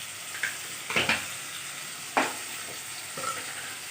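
Pabda fish with spices, salt, turmeric, cumin and ginger paste sizzles in a pan while being stirred, a soft steady fry broken by a few brief clinks and scrapes of the utensil.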